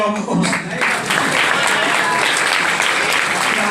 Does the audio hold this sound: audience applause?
yes